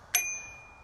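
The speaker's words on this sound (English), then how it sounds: "loud, ridiculous bell to warn people that you're coming" Single bright ding from a bicycle-style bell fitted to a 1935 Velocette MAC motorcycle: one sharp strike that rings on with a long, fading metallic tone, heard alone and close.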